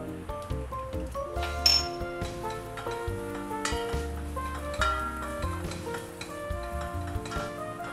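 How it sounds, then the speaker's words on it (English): Garlic sauteing in a pan for homemade grilled tomato soup, a soft sizzle under repeated clinks and tonal metallic taps of a utensil against cookware, close and steady, no talking. "I put the garlic just now because I don't want the garlic to get burned in sauteing."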